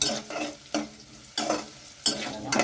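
Onions frying in hot oil for urundai kuzhambu, a soft continuous sizzle broken every half second or so by the sharp scrape of a spoon stirring the pan, close by, with no talking.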